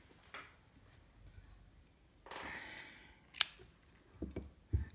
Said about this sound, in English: So chain 1 and cut the yarn.